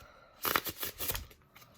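Theory Eleven Artisans playing cards get a Faro shuffle: a short, close burst of crisp riffling and papery snapping that lasts under a second, then settles to near quiet.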